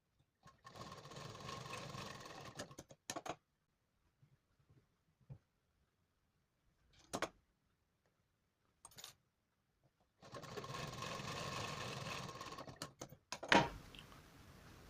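A sewing machine stitches a blouse in two loud steady runs of about three seconds each, separated by quiet pauses with a few brief clicks and handling noises.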